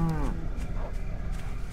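A cow in the video game The Cows are Watching lets out a short moo at the start, followed by a low, rumbling farm-animal murmur under faint background sound.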